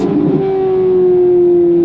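Loud, close engine drone from a modified Chevrolet C8 Corvette Z06 fitted with an aftermarket exhaust and Venturi airbox, a steady sustained tone heard from inside the cabin with no talking.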